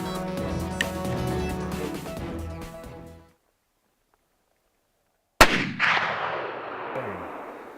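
A single sharp, loud muzzleloader rifle shot fired at a buck deer outdoors, cracking suddenly after a silent pause and trailing into a long rolling echo, with earlier ambient noise before the quiet.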